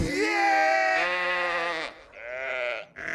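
Sheep bleating in a movie trailer, heard as a loud, close, drawn-out wavering bleat followed by two shorter bleats, with no talk over them.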